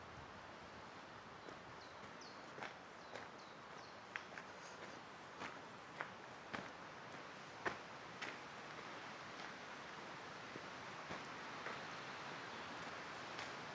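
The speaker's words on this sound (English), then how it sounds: "these trees are making a lot of noise." Trees near Munich on a windy hilltop hike toss in a steady, faint rustle, with scattered soft ticks and crackles like footsteps or twigs underneath and no voices.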